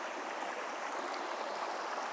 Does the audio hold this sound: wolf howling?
no